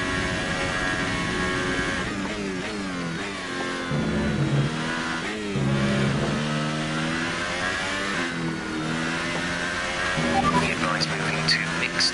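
Formula One car engine in F1 2018 during a wet-to-dry Belgian Grand Prix, screaming at high revs with pitch climbing through gear changes while overtaking, loud and continuous, with someone talking over it.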